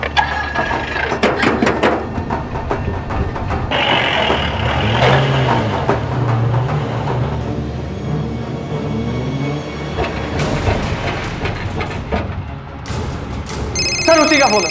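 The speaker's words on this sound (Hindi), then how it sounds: "सर उसी का फोन है, उठाओ।" A telephone rings in repeated bursts amid a noisy background with low rumbling and scattered voices.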